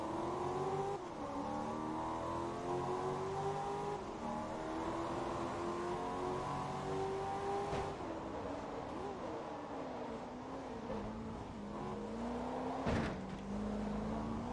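A Corvette race car's engine drones and revs in the Forza Motorsport 2 video game, a steady high engine whine that shifts pitch through gear changes and stays continuous throughout.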